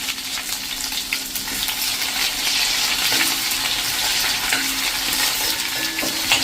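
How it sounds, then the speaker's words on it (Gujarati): Loud, continuous sizzling of ginger-chili paste frying in hot oil, with scraping stir sounds mixed in, no one speaking. "1 ટીસ્પૂન જેવી આપણે આદુ મરચાંની પેસ્ટ નાખી દઈશું અને એને આપણે સહેજ કૂક કરી લઈશું"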